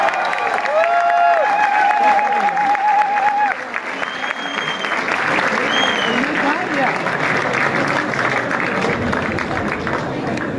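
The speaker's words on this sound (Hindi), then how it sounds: "आप सबकी तालियों में मैं मजीद हायल नहीं होना चाहूँगा।" Sustained audience applause fills a mushaira poetry recital hall at a university in Islamabad, a dense steady clatter of many hands with a few scattered voices and cheers mixed in throughout.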